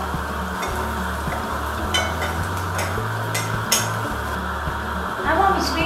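Onion cooking in a pan for a baby corn and peas curry, with a steady sizzle under repeated scraping and clinking as a spoon stirs it; the sound stays even and close throughout, with no talking.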